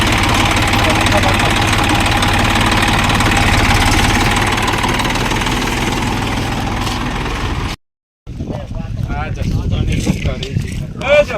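A tractor engine idles loudly and steadily close by, a continuous low rumble, cut briefly, with people talking over it.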